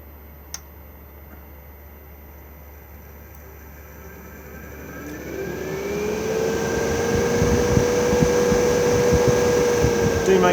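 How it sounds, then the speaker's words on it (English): Caravan roof vent fan in a 2021 Elddis Xplore 586 spinning up: a quiet hum that gradually rises into a steady whirring drone with a tonal whine, alongside someone speaking. "the blades will then stop and then spin in the opposite direction and then draw"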